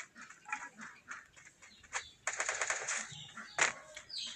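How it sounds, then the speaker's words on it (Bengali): Gunfire in the shooter game Free Fire: scattered faint clicks, then rapid bursts of shots at moderate distance, with one sharper, louder crack near the end and no talking. "কোথায় যেন গুলি হচ্ছে মনে হচ্ছে"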